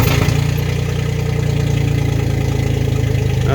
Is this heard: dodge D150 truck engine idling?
yes